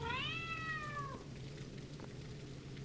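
A single drawn-out cat meow in a video game set in an alley, fairly clear and slightly falling in pitch, followed by quiet ambient noise like light rain, with no talk.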